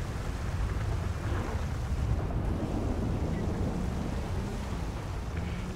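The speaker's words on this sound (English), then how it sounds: "we're in a storm" A GTA V storm with a dense, steady roar of heavy rain and gusting wind, loud and continuous with no voices.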